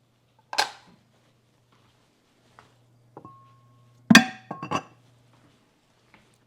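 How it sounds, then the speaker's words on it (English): Measuring cup used for flour clinking in a quiet kitchen, a sharp knock, a few faint taps, then a cluster of ringing clinks, close and alone. "That was my measuring cup for my flour."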